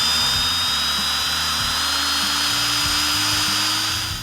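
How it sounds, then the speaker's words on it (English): An electric drill spins the engine oil pump of a 1971 Plymouth Cuda, whirring steadily and loudly throughout, a continuous high motor whine with a low mechanical churn beneath it. "And I'm going to give it a spin and see what happens."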